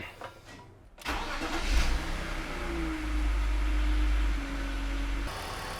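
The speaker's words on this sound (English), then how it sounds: "Idling nice and smooth now." A BMW E46 325i Touring straight-six cranks briefly after a pause, catches, then settles into a steady, smooth, close idle with a low rumble for several seconds.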